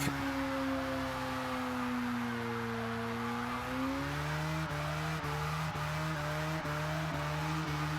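A car doing a burnout in a livestreamed celebration, its engine droning steadily at high revs with shifting pitch and a sustained tire squeal throughout, loud and close with no talk.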